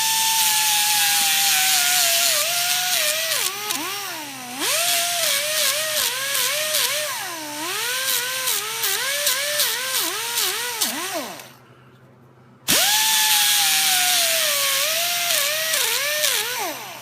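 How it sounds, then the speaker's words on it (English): A power grinder working on Toyota Corolla brake pad parts whines loudly and close, its pitch rising and falling as the tool bears on the metal, then stops briefly before starting again. "Now I don't like grinding these down unless I have to"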